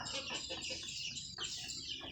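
Native country hens on a farm cluck and chatter in a steady stream of short calls. The sound is close but quiet, with a brief pause partway through and no talking.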